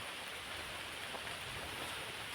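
Steady rain falls with a dense, even hiss of drops and no break, faint and constant throughout.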